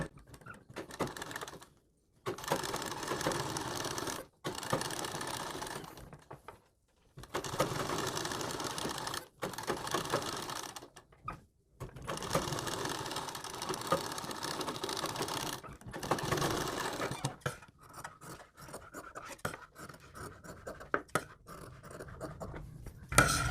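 A sewing machine stitches a sleeve along the neckline shape in repeated bursts of steady, close-up whirring, each run lasting a few seconds with brief pauses between, and no talking.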